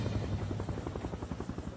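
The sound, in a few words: helicopters flying over an air crash site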